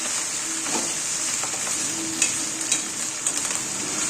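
Curry leaves being stirred and dry-roasted in a pan for curry leaf powder give a steady close sizzle, broken by scattered light scrapes and clicks of the spatula, with no voices.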